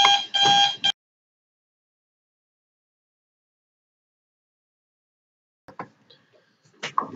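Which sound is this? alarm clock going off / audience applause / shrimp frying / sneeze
alarm clock going off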